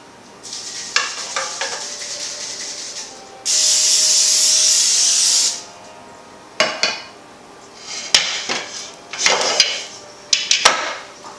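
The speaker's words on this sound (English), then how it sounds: "You want to spray your pans really good with Pam" A steady hiss of Pam cooking spray onto a cake pan lasts about two seconds, surrounded by clanks and taps of the metal pan being handled.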